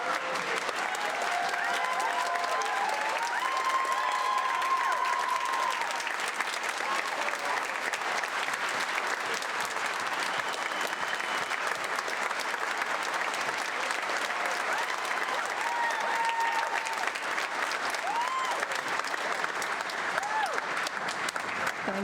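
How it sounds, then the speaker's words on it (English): Sustained audience applause fills a spring choir concert hall, a steady dense wash of many hands clapping with crowd murmur and faint voices mixed in throughout. "Please give them both a round of applause."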